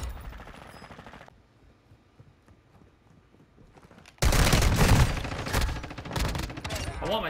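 Bursts of rapid gunfire from a multiplayer shooter video game, starting abruptly partway through and staying loud and dense to the end after a quieter stretch with faint background sounds.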